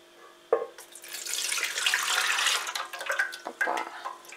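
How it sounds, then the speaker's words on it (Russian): Yeast dissolved in water, 450 grams, poured into a bowl for ciabatta dough, a close splashing gush after a sharp first splash, fading into a few small spatters and drips. "Выливаем мы наши дрожжи с водичкой"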